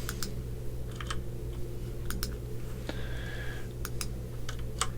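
Sharp mouse clicks and keyboard taps tick out an irregular rhythm at close range during a turn-based strategy game, with a faint electronic tone sounding briefly midway and a steady low hum underneath.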